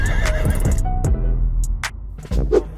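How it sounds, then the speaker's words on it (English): A horse in a video game whinnies loudly up close, with a few hoof clatters and snorts scattered around it, no talking. "Horses won't stop galloping just because you want to look cool."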